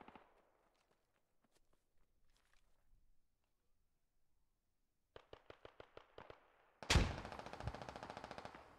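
Gunfire in the military shooter Squad: faint distant shots and scattered taps at first, then a close rapid burst of about eight shots followed by a loud, sustained automatic volley.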